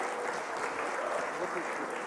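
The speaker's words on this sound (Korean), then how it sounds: "네, 안희정 지사님 큰 박수로 다시 한번 맞이해 주실까요?" Applause from an audience at a Chungnam provincial residents' summit event, welcoming the governor back to speak; steady, dense clapping fills the whole stretch at moderate level with some talk mixed in.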